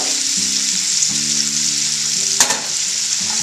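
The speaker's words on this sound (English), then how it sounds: "we're going to go ahead and stir these vegetables until they cook just a little bit" Vegetables and onions for beef bourguignon sizzle steadily in a pan, a dense close frying hiss with a faint low hum beneath and one sharp utensil clink partway through.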